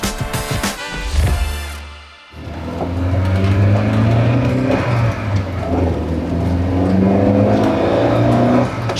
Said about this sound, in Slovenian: ta atmosferski motor deluje zelo živahno